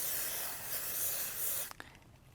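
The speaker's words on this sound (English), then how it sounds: "sticky device I use a lot, is a temporary basting spray" A steady, airy hiss of temporary basting spray adhesive, used for fabric, runs for over a second, then cuts off, followed by a couple of faint clicks and taps.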